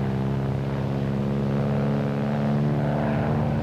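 A propeller airplane in flight during spin recovery makes a steady, loud engine drone with a low, even propeller hum throughout.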